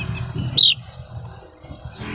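Young Black Bulik chicks chirping in a yard, a single sharp high tweet standing out over soft low background noise, fairly close.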